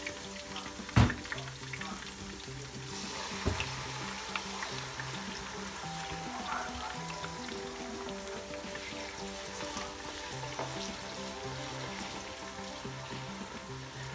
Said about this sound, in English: So I'm going to be adding the puree.